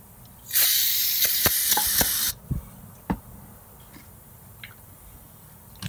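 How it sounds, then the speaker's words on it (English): Brake cleaner is sprayed onto a wheel in a loud, close aerosol hiss lasting about two seconds, followed by faint ticks and small knocks. "Let's see what happens if we put more brake cleaner"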